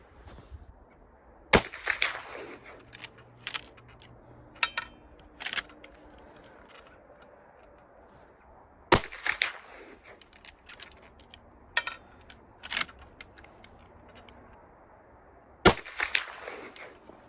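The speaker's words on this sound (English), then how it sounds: "we're going to take 3 shots now with a 315 grain bullet" Rifle shots from a Winchester Model 94 Trapper .44 Magnum with Skinner sights firing 315-grain bullets, a few sharp distant-sounding cracks spaced several seconds apart amid quieter clicks and outdoor ambience.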